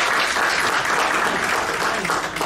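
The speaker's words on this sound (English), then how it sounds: "Let us have a hand clap for our moderator" A lecture-hall audience applauds its moderator, Dominique, at an ethics talk, with dense, continuous clapping from many hands, loud and close, holding steady across the whole stretch with no speech on top.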